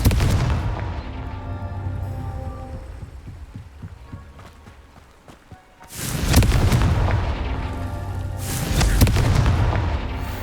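Deep booming blasts from a Confringo fire spell in the game Hogwarts Legacy, two loud rumbling explosions that swell and fade over a dense, noisy backdrop.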